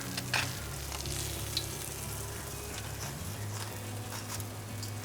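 Malasadas, Hawaiian-style donuts, frying in hot oil give off a steady, close crackling sizzle with scattered pops and no talking.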